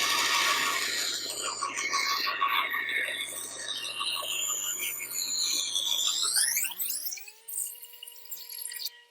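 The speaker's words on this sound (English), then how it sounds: "I'm doing that on a bandsaw because it will remove less material each time I make a cut." A bandsaw rips thin strips from a laminated wood billet for acoustic bass guitar bindings, a steady broadband cutting roar that runs for several seconds before the blade cuts out and the motor winds down in a falling whine.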